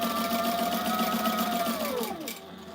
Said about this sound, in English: So what I'm sewing is just a binder tape